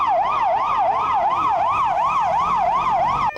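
An ambulance siren wails in a steady rising-and-falling cycle, loud and close, brought by medics to a street protest against the reorganization of their disaster medicine center.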